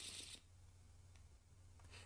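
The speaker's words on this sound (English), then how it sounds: "After I shuffle this." Two brief bursts of a deck of cards being riffle-shuffled, soft and close, one at the start and one at the end, over a low steady hum.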